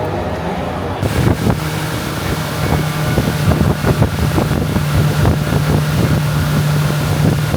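A speedboat ride in a small Colombian town, with a loud, steady engine drone and wind rush mixed with water slaps and bumps, and faint voices underneath.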